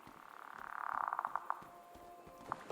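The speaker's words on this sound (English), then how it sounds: "It's the sound of a frog." A frog in a video game gives a quiet, rising trill that breaks into a quick run of croaking pulses, then a single faint croak follows over soft background noise.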